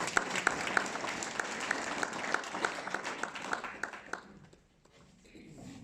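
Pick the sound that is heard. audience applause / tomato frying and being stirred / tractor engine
audience applause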